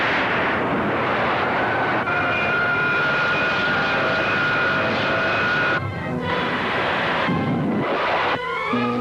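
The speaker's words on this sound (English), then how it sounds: "There's the plane." A loud propeller airplane drones steadily overhead in a 1953 film serial, engine roar filling the air, with a couple of brief dips near the end.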